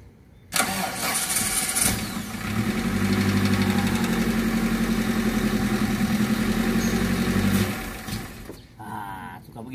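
A carbureted Daihatsu Zebra is started on a cold morning. The engine cranks, catches and settles into a loud, rough, lumpy idle, and it sputters near the end before the revs rise again.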